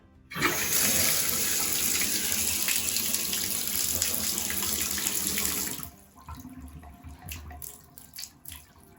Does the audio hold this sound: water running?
yes